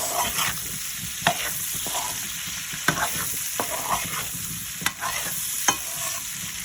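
Potatoes with salt and pepper sizzle steadily in a frying pan while a utensil stirs them, producing irregular scraping clicks and taps over the continuous frying hiss, close and moderately loud.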